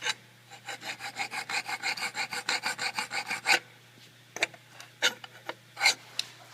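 A steel scribe scratching layout lines on sheet metal at a vertical band saw, heard as a run of rapid, evenly spaced rasping strokes, then a pause and a few separate louder scrapes, close and clear with no talking.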